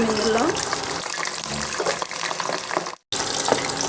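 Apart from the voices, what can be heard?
french fries dropped into hot oil for deep frying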